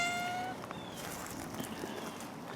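Faint meows from a cat in a backyard vegetable garden, soft and brief against quiet outdoor background.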